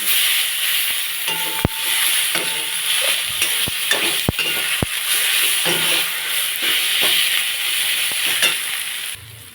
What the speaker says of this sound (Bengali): এখন একটু আদা বাটা দিয়ে দেবো ভালো করে মশলাটা কষে নেব